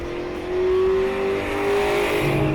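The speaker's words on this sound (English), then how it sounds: "we're out here on the street with our 2000 GT" A 2000 Ford Mustang GT with an Airaid intake and Flowmaster cat-back exhaust drives on the street, its V8 droning loud and steady with a rising rev and a faint tire squeal near the end.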